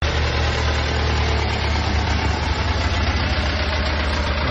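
Mercedes W205 C300 engine idling rough, with a suspected fuel-pressure problem. A continuous, dense mechanical drone holds at a constant level close by, with a faint uneven knock running through it and no voices.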